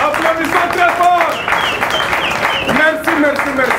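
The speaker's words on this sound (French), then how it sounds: "applaudissons très fort" A crowd applauds after a ministerial speech at an academy training event: a continuous wash of clapping sits beneath a loud, sustained voice.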